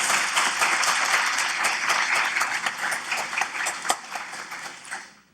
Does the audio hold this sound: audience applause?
yes